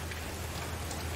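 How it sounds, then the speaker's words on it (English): Steady rain falling and pattering on surfaces, a dense, even hiss lasting just over a second with no other sounds. "It is raining now. Oh, it started raining."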